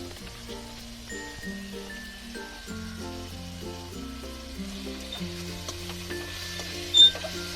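Chicken chow mein frying in a pan with soy sauce added gives a steady, soft sizzle with faint stirring, continuing evenly without talk and with one brief louder clink near the end.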